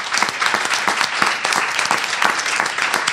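An audience at a women's leadership session claps together in dense, steady applause, fairly loud and continuous throughout with no voices over it.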